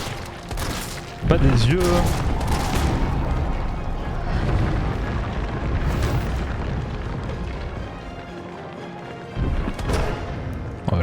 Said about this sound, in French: Oh, je tire dans le vide là.